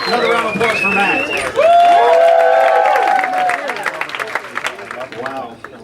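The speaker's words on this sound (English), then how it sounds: "Another round of applause for Matt." A comedy club audience at the DC Improv claps and cheers loudly, with shouted calls and voices over the applause before the clapping thins out and tapers off.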